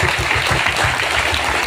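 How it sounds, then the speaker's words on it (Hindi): An audience clapping to welcome a guru at a church welcome event, loud, dense and continuous, with a steady rhythmic beat. "तो हम हार्दिक धन्यवाद देंगे और स्वागत करेंगे ताली के साथ।"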